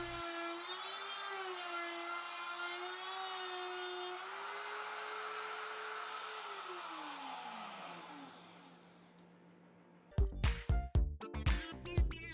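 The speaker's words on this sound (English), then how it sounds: "I plunged down halfway through the plywood with a 1/4-inch spiral bit" A router with a 1/4-inch spiral bit plunging through plywood, a steady high motor whine that spins down near the end, followed by several sharp knocks and clatters.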